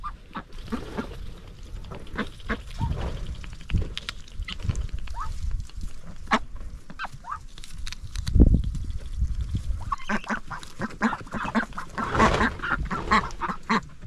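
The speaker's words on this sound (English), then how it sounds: "you guys ready to see the baby ducks and the guineas?" Baby ducks and guinea fowl call in a noisy mix of quacks, honks and chattering cries, steady and close throughout with overlapping voices.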